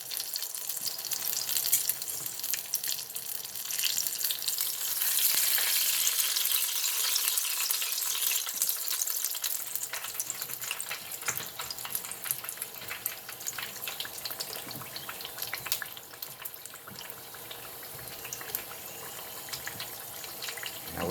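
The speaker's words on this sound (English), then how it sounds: "When it's ready, we'll put it in the colander." Cooked taco filling for taco empanadillas drains into a colander, making a steady wet hiss and sizzle close by that gradually thins out, with no talking.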